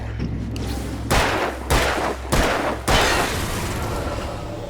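Four heavy gunshots in the video game Alan Wake, evenly spaced and booming, each a loud close blast with a short decaying tail over a low background drone.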